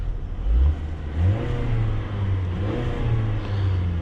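A 2018 Lincoln MKZ Black Label's 2-liter EcoBoost turbocharged engine revs in a few close, loud bursts, the pitch climbing and falling over a steady droning idle.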